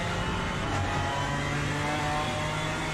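A BMW M4 GT4 race car drones steadily through a racing game at Oulton Park, its engine holding an even, continuous tone with a slight lift in revs midway, loud and up close without any voice over it.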